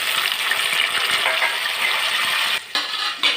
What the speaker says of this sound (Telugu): ఇప్పుడు జీడిపప్పులు కూడా వేసేసుకుని వేపుకుందాం